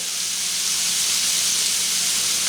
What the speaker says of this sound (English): So a little bit of minced garlic. So I'll just give this a few minutes to saute.